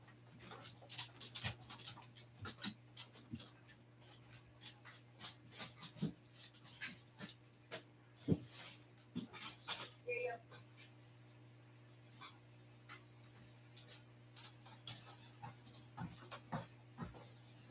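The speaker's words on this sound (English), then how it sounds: "Gotta let the dog out." A dog pants in quick, uneven bursts of breathing at moderate distance, with occasional soft whimpers and a faint bird in the background, all beneath a low steady hum.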